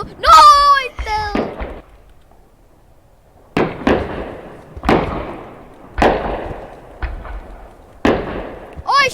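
Fireworks go off in a video game fireworks battle. After a burst of excited voices, a series of sharp, close explosive pops lands at fairly regular intervals, each with a short crackling tail.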